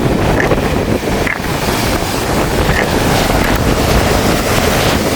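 Large sea waves surge and crash on the coast at Jaffna in a loud, constant roar of surf with heavy wind buffeting the microphone.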